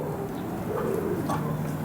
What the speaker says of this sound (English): These are pigeons.